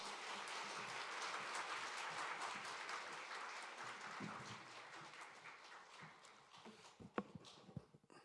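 Church congregation applauding to welcome their pastor back, a dense steady wash of many hands clapping that thins toward the end with a few louder isolated claps.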